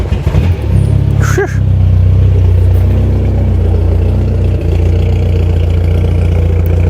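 Peugeot 405 TCT sedan, fully prepared for drag racing, sitting stationary with its engine idling: a loud, steady low rumble runs nearly unbroken throughout, with a faint voice briefly heard near the start.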